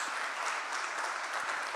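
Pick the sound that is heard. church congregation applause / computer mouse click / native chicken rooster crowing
church congregation applause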